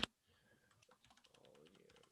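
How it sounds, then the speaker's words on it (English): Quick, light typing on a computer keyboard, soft irregular clicks after one sharp tap at the start, with a voice talking faintly underneath. "I'm typing as fast as I can."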